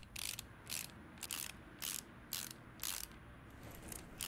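Ratchet clicking in Car Mechanic Simulator as screws are tightened, about eight short bursts of quick ratcheting at a steady rhythm, close and clear with no talk.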